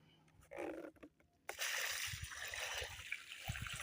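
Water poured from a container onto freshly layered soil around the roots of a newly planted tree on a Namibian homestead: a brief splash, then a sustained rushing, splattering pour that continues loudly to the end.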